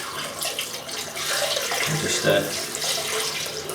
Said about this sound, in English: let me just put some more hot water in the sink here.